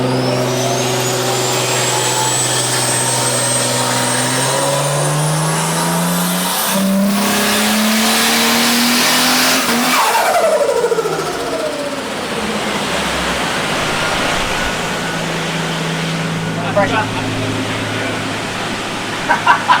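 Nissan C34 Stagea with an RB25DET engine on E85 at about 22 psi boost revs hard on a dyno, a loud rising harmonic climb to the limiter, then a sharp drop and burbling wind-down.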